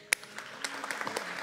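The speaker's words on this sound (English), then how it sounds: "Give God a clap for her healing" Brief, scattered clapping from a church congregation at a conference night service, opening with one sharp clap and then a few thin, uneven claps, fairly quiet and without talk.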